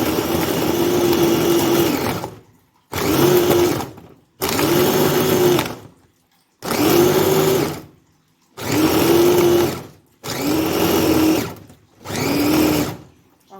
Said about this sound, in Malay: Okey, sekarang kita blender.